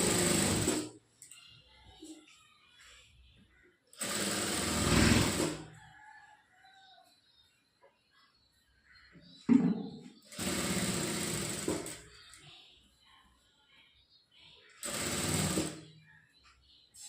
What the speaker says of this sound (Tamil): இந்த மாதிரி வச்சுட்டு நம்ம ஃபுல்லாக ஒரு தையல் போட்டுக்கலாம்